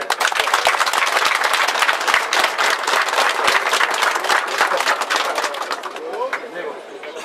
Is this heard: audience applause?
yes